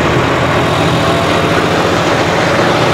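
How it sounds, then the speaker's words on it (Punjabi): A John Deere 5405 4x4 tractor with a turbo diesel engine runs steadily in hard field soil in four-wheel drive, giving a loud, close, continuous rumbling drone with no pauses. "ਇੱਥੇ 4x4 ਕਰਕੇ ਟਰੈਕਟਰ ਚੱਲ ਰਿਹਾ ਵਾ।"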